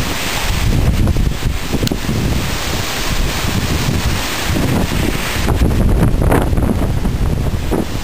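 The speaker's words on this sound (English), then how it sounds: "Wind is really, really picking up here." Strong thunderstorm wind in Edmonton, Alberta roars as heavy, continuous buffeting against the microphone with gusty rustling throughout and no speech.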